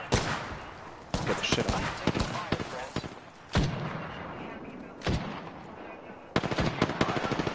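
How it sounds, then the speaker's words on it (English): Loud bursts of automatic gunfire in a match of the video game Apex Legends, with sharp repeated volleys and pauses between them while players talk excitedly over the shooting. "Oh, they're shooting at us."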